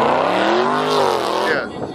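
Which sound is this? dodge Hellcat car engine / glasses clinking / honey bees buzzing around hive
dodge Hellcat car engine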